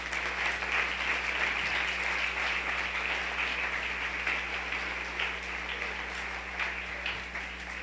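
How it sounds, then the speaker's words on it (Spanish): Congregation applauding during a Sunday church service, a steady wash of many hands clapping at moderate distance that holds evenly throughout with a low hum underneath. "denle un aplauso al Rey."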